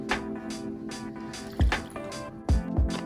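Soda water poured to top off a blood orange vodka cocktail, a soft trickling fill with small drips and two louder splashy glugs, close and quiet with no talking.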